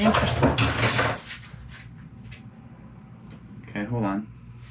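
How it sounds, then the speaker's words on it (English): Dishes clatter and crash in a short burst as a cat knocks them over, followed by near silence and a brief voice-like sound a few seconds later. "it looked like the dishes kind of fell or whatever"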